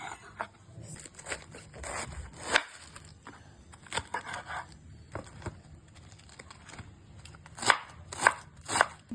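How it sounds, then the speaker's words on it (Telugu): Knife chopping cabbage and carrot very finely for veg manchurian, a series of crisp, close cutting strokes in irregular bursts, ending with three sharp, evenly spaced chops. "వీలైనంత సన్నగా కట్ చేసుకోవాలి. నేనైతే దీంట్లో కట్ చేస్తున్నాను."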